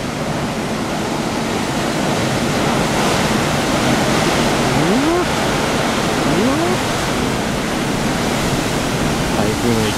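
Rough sea waves stirred up by a typhoon at the Hizaki lighthouse coast, a continuous loud roar of surf and wind that fills the whole clip, with faint bird calls rising briefly over it.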